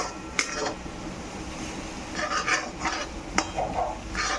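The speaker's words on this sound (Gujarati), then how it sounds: "મરચાં અને ડુંગળી સારી રીતે સતળાઈ ગયા છે" Green chillies and onions sautéing in a pan, sizzling under intermittent stirring scrapes and light utensil taps against the pan, close and fairly quiet.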